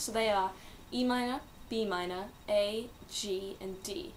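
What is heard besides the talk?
No everyday noises stand out.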